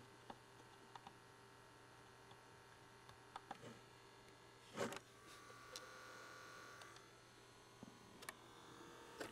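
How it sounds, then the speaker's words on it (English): A cassette tape recorder with a noisy motor runs with a faint, steady mechanical hum, broken by scattered light clicks and a brief louder rustle of handling midway, all quiet and close with no voices. "Got a noisy motor."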